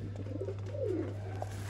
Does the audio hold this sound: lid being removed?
no